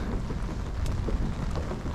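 Steady rain falls on a Japanese garden, a dense, even hiss of drops with a low rumbling wash beneath, continuous and close, with no voices.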